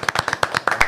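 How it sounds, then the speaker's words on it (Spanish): A few people clap in a short, uneven burst at the close of a Spanish-language political interview episode, with sharp close claps and no talking. "Un aplauso."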